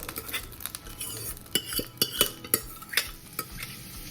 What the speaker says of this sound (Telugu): మనం కుక్కర్లో పెట్టుకున్న అన్నం దీంట్లో కలిపేసుకుందాము